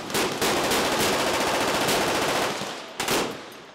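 A machine gun fires a long continuous burst, loud and close, stopping briefly before a second short burst near the end.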